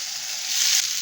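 Chopped onion, curry leaves and green chilli sizzle steadily in a hot pan of oil for a tamarind egg gravy, a close, continuous hiss that swells slightly partway through.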